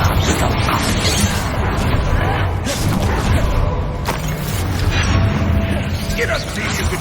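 A Confringo spell blast in the Hogwarts Legacy video game erupts amid dense combat noise, with sharp cracks and crashes layered over a loud, continuous battle din.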